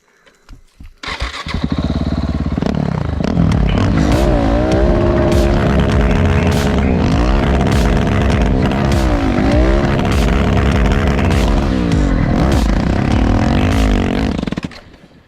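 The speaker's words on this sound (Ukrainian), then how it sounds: "А ми давайте спробуємо відключити АБС і дати бурнаута." A 2015 KTM SMC 690 R supermoto with ABS switched off doing a burnout: the engine starts, then holds a loud, sustained, close-up roar with wavering revs for about thirteen seconds before cutting off.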